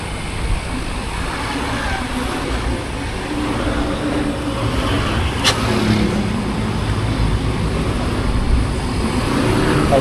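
Tour bus driving along a narrow two-lane tourist road near Ciwidey, a steady loud engine and road rumble heard from close by, rising gently over ten seconds with one brief sharp click.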